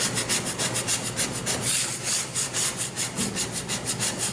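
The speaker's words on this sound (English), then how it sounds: "I'm using a dough scraper, and I'm just going to gently get some of this debris off" A dough scraper scrapes debris off a porous baking stone in rapid, rhythmic rasping strokes, steady and close, with no talking.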